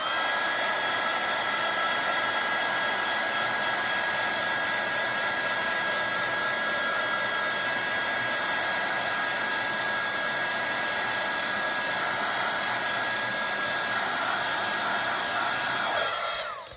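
A handheld heat gun drying embossing glaze on a card gives a steady, loud whirring blow with a high whine, running unbroken for about sixteen seconds before cutting off.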